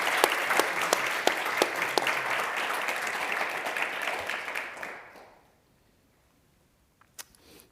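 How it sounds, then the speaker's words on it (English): An audience at a lecture on women's and youth movements in Iran gives the speaker a loud, dense round of clapping that holds steady for about five seconds, then fades away into near silence, broken by a couple of small clicks. "if everyone would join me in giving him a big round of applause"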